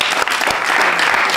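A studio audience at a quiz competition applauds the contestants, a loud, dense burst of clapping filling the short moment.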